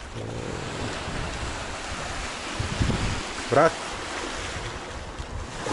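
Sea waves on the Turkish coast wash in a steady, broad roar with wind buffeting the microphone, and a voice briefly speaks near the middle.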